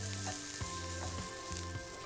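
Chard sizzles and crackles in a hot frying pan, a close, continuous frying hiss with no talking.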